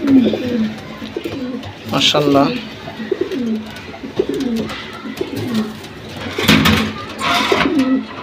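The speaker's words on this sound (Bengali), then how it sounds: "এই হলো অ্যালুমিনিয়াম কবুতর, এদের একটা বাচ্চা আছে" Silver pigeons in a loft cooing in repeated low, throaty phrases close by, mixed with some wing and movement noise, while someone speaks briefly over them.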